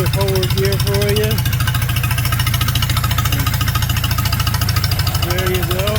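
Palmer 60 marine engine running steadily in forward gear, a loud, constant low mechanical drone with a dense rhythmic beat and faint whining tones drifting above it, heard alone without talk.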